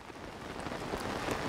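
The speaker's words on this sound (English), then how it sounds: "Always raining." Steady rainfall in the video game The Legend of Zelda: Tears of the Kingdom, a continuous soft hiss of drops pattering on surfaces at moderate volume, with no voices.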